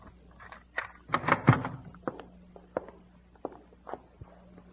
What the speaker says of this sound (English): Happy, open the door.